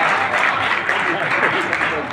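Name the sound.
audience applause at poetry gathering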